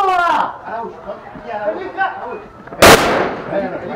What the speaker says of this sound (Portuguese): Ó, troca de tiro, hein?